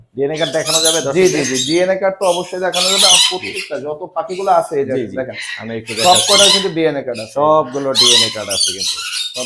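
Lory parrots at a bird farm squawk in loud, harsh bursts that repeat through the clip, mixed in with a man's nearby speech.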